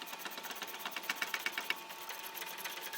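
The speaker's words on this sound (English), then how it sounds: "I find using a wrench a lot easier here" A wrench turning leaf spring hardware while a RoadActive suspension enhancement kit is fitted to a trailer, making a quick, steady run of close metallic ratcheting clicks with no talk.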